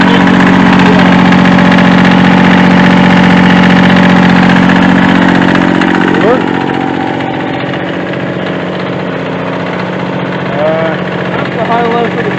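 Kubota B6100 tractor engine running with a little blow-by, a loud steady close idle throughout that eases slightly in level partway, with no talk over it.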